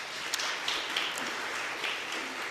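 Audience applause at the unveiling of a blue plaque to Martin Luther King at a Bloomsbury church building, steady dense clapping from a crowd that stays even throughout, fairly loud with no voices.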